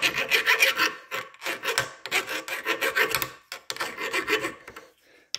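A bolt is being cut to shorten it, most likely with a hacksaw across the threaded section. The close, rasping strokes come in uneven bursts with brief pauses, and no voices are heard.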